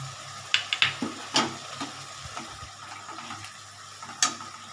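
Garlic paste hits a hot pan with tomatoes, giving a soft sizzle under intermittent clacks and scrapes of a spoon stirring, close and fairly quiet, with no talking.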